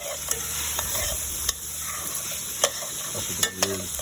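Beef short ribs frying in avocado oil and their own rendered fat, with a steady close sizzle broken by a few sharp clicks and scrapes as a utensil stirs them in the pan.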